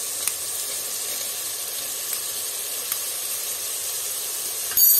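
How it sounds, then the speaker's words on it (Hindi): Beans and peas sautéing in a pan for veg pulao, giving a steady close sizzle and hiss of frying with a few faint clicks and no voices. "इन्हें मैं अच्छी तरह से सॉटे कर देती हूँ"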